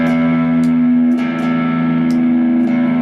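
A Fender Telecaster electric guitar played on its humbucker pickup rings out as sustained distorted chords with a few sharp pick attacks, close and loud with no voices.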